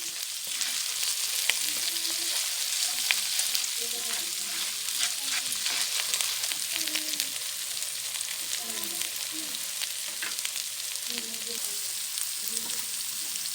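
Fish heads sizzling and frying in a pan with onion, garlic and ginger, a steady close crackle and hiss throughout with occasional stirring scrapes and no talking.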